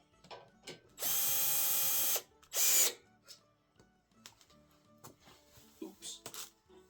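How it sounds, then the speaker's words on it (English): A power drill drives screws into a wooden garden bench in two bursts, one long and steady whir and one short one, with quiet clicks and handling noises and a person talking softly between them. "And we'll use our drill again."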